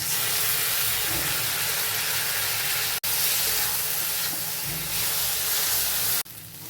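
Spice masala with tomato and onion frying in a pan, giving a loud, continuous hiss and sizzle close by that cuts out briefly and then drops away at the end.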